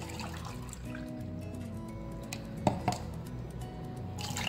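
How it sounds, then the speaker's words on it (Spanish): Water is poured steadily into a mixture of condensed and evaporated milk for strawberry milk ice pops, a continuous soft liquid gush running the whole time with a faint clink near the middle. "La misma cantidad de leche evaporada la vamos a poner de agua."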